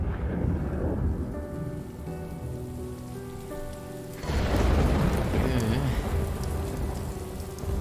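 Steady heavy rain hissing on a surface, with a deep rumble of thunder rolling in partway through and lingering under the downpour.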